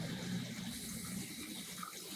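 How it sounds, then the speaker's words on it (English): Water runs steadily from a hot and cold faucet in the bathroom of a 2016 Coachmen Mirada RV, a continuous hissing splash that stays even and fairly soft throughout. "Hot and cold water."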